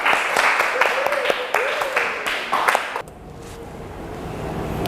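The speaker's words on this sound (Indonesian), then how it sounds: "Tepuk tangan buat kalian semua." Classmates in a school programming lesson clap together for a few seconds, a dense burst of hand claps in a room that stops abruptly, leaving quiet room tone.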